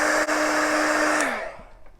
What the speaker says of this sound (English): Heat guns work real well if you're just trying to be quick with your painting